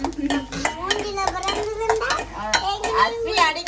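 Tomatoes fried in ghee in a home kitchen pan, with repeated clinks and scrapes of a spoon stirring against metal under ongoing speech.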